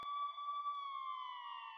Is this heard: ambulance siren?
yes